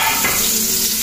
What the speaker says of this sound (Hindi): ये इन्होंने प्याज ब्राउन कर रही हैं